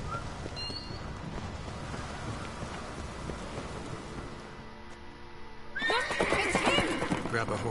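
A horse in the video game The Witcher 3 neighs loudly near the end, a long shaky whinny, after several seconds of muffled rumbling and faint ambient noise.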